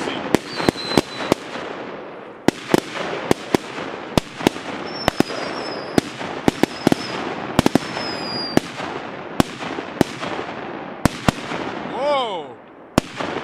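Scream 10s firecrackers burst one after another in a rapid irregular series of sharp, loud bangs outdoors, with a faint whistling trail near the end.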